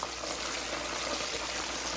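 Chicken deep frying in hot oil during the first of two fries, a steady, dense bubbling and sizzling hiss that holds even and close throughout.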